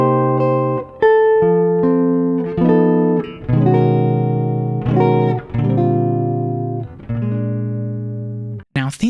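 Jazz guitar chord melody of Silent Night, measures 7 to 10, played as a steady sequence of strummed and plucked chords with melody notes on top. The chords ring in a slow rhythm with brief gaps between phrases, played alone with no voice.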